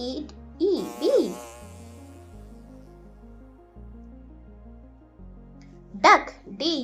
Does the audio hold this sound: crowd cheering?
no